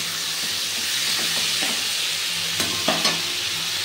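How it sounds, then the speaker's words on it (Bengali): Spice paste being stirred and fried with ridge gourd and potatoes in a pan, a steady close sizzle and hiss with a few light scrapes of the spatula near the end, no voices. "খুব ভালোভাবে এটা আবারও আমি কষিয়ে নিচ্ছি ঝিঙে আলুর সাথে। একটু ভালো করে নেড়ে চেড়ে মিশিয়ে নেব।"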